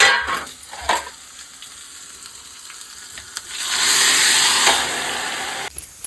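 Garlic and red chili hit hot oil as a tempering for dal, sizzling and crackling up close, with a louder surge of frying midway and faint clinks of utensils, no talking.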